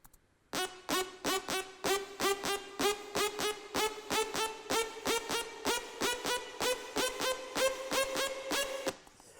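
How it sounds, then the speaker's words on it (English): Two layered synth risers in an electronic music track pulse in fast, even, gated chops whose pitch climbs slowly over about nine seconds, bright and steady, with no voices. "And I think that main riser, there's two of them."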